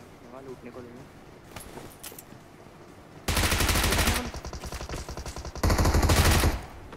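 A maxed-out level 7 AMR gun fires in a video game in two long, loud, rapid bursts after a stretch of quieter game sounds and a talking voice.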